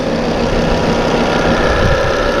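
A 2008 Volvo C30 T5 engine idles steadily with a low, even rumble and slight mechanical knock, continuous and fairly close with no talking.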